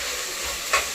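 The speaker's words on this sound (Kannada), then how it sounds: "ಇವಾಗ ಫ್ರೈ ಮಾಡ್ತೀವಿ." Onion and tomato fry in a pan with a steady close hiss, and one brief louder scrape or sizzle burst near the end of the short stretch.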